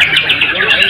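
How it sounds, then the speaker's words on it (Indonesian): A white-rumped shama of the kejora type sings at a songbird competition hanging post, bright warbling notes running continuously for about a second, close and loud, with a voice speaking underneath. "itu contoh murai batu kejora ya untuk kerja di gantangannya"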